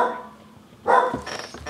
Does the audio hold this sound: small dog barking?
yes